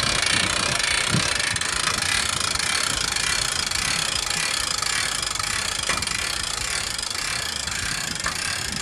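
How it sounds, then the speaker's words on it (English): A hand winch mounted on the mast of an LED light tower being cranked to raise it, giving a steady, continuous mechanical ratcheting and grinding that runs loud and close throughout. "So now we use that upper winch, the one that's actually attached to the mast,"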